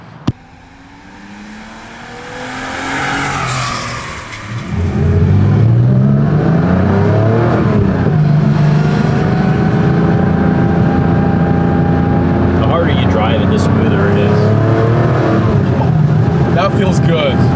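A 1976 Porsche 911 backdate drives off, its engine revving up through a loud climbing growl and then settling into a steady, strong drone on the road, with people talking over it.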